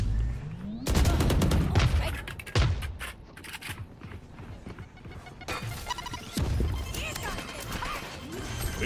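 Explosive launch and impact bursts in Valorant during a Masters Santiago grand final match, several loud blasts separated by short gaps, mixed with game noise and talk.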